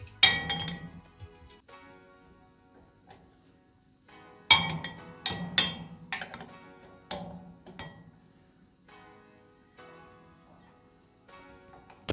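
An adjustable wrench clinks and taps against a metal pin on an Adidas home gym, with sharp metallic rings in uneven bursts separated by quiet gaps, close and fairly faint.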